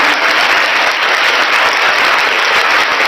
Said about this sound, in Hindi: आप सभी का हमारे YouTube चैनल पर तहे दिल से तालियों के साथ स्वागत है।